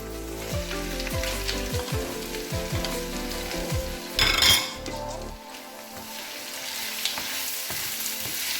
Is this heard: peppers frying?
yes